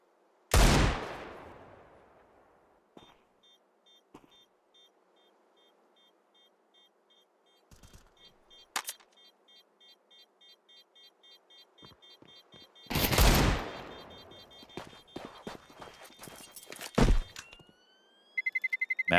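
Gunfire from a MAC-10 and a Desert Eagle in Counter-Strike, heard as a loud opening shot with a ringing tail, scattered single pops, then another heavy blast followed by a rapid burst of shots and sharp mechanical clicks.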